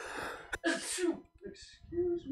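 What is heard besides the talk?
sneeze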